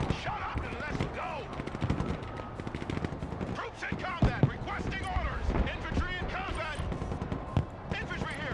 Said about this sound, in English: Suppressed by a machine gun.